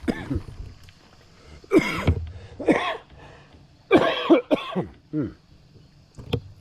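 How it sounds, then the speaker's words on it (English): Several sharp coughs in irregular bursts, close to the microphone, with a throat-clearing sound among them and quiet pauses between. "Had a bad head cold a week ago, and it left me with a cough."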